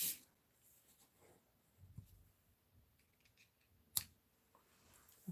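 Scissors snip a ribbon bow during a crafting session, giving a few quiet, sparse cuts with a sharper snip near the end against a faint room background.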